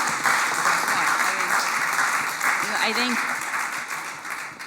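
A panel audience breaks into sustained clapping, a dense, even roar of applause that fades slightly toward the end, with a voice briefly speaking over it.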